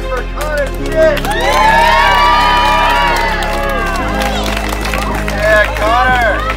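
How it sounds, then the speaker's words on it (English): A crowd at a freestyle BMX competition cheers and shouts for the first-place winner, loud whooping voices with scattered clapping up close, and an announcer talking over the noise. "Let's give a big round of applause for first place for Connor Stitt."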